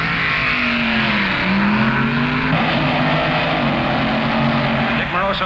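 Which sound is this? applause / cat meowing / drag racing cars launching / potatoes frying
drag racing cars launching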